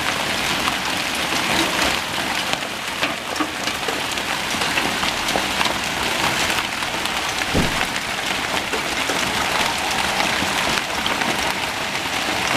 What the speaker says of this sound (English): Whoa, now we're getting some really big hail. Looks like about the size of tennis balls.